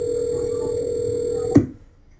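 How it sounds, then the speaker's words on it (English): A telephone rings on a 911 call recording as a steady electronic tone that holds, then stops abruptly with a click and falls to near silence. "You hear the phone ringing"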